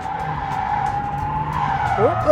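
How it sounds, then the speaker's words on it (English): A Ford Mustang drifts under handbrake, its tires skidding in one long continuous squeal over a steady engine drone, loud and close, with a sharper screech rising at the end. "So opposite, left, right, pull the handbrake, back on throttle."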